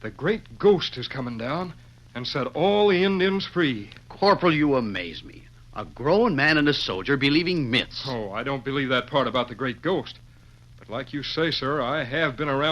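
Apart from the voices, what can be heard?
No everyday noises stand out.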